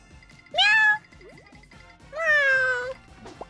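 A person voices two drawn-out cat meows, mimicking a cat; each call is loud and close, with a short pause between them and faint background noise.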